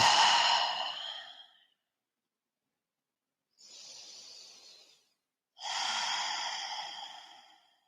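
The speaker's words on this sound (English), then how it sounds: "Take a couple of deep breaths." Deep, audible breaths in a yoga class: a long airy exhale, then a softer inhale and another full exhale, close and with no talking.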